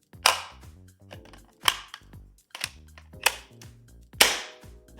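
A thrifted Nerf blaster in good condition fires foam darts, several sharp snapping shots spaced about a second apart, close and fairly loud, with mechanical clicks and rattles between shots and no talking.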